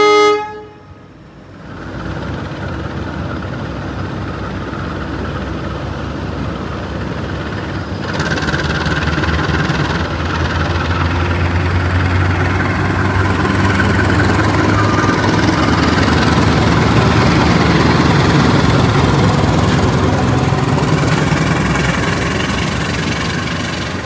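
A Supas Surabaya-Pasuruan emergency-formation train in Indonesia sounds a brief horn blast at the start, then its engine rumbles past loudly and steadily, building and holding before fading slightly at the end.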